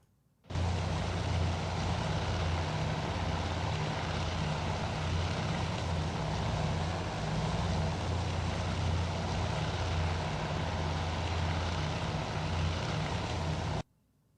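Carrier aircraft launching in the naval strategy game Task Force Admiral give a steady propeller-engine drone that cuts in abruptly and holds evenly for about thirteen seconds before stopping just as suddenly.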